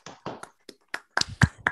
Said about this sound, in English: ask my colleagues to unmute and give a round of applause to our esteemed graduates